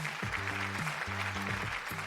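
Warm audience applause for guest JP Karliak, a steady wash of clapping over a light musical backing, lasting about two seconds.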